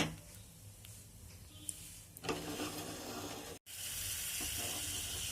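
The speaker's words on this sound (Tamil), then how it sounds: "எண்ணெய் காஞ்சோன்னு நம்ம காய வச்சு வச்சுருக்கிற அந்த கோவக்காய் வற்றலை போட்டு வறுக்கணும்." Dried ivy gourd (kovakkai vathal) dropped into hot oil, giving a steady close hiss and sizzle that swells as the pieces hit the pan and keeps frying continuously, with one brief break.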